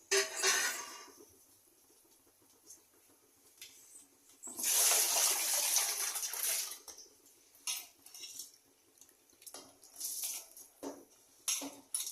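Water splashes and pours into a pot of rice in a few bursts, with clinks of utensils and kitchen handling between them.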